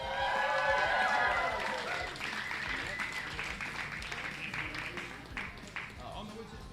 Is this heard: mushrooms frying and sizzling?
no